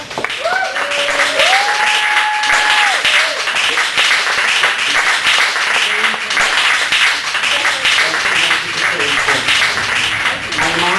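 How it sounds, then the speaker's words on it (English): A crowd at a Chicago open mic poetry reading breaks into loud, sustained applause that fills the whole stretch, with a few whoops and cheers rising above the clapping. "Give her a round of applause."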